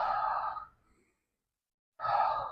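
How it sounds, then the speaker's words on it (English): Slow belly breathing during a qigong exercise: a long audible breath out, a second of silence, then another deep breath begins, close and soft. "My breathing is belly breathing."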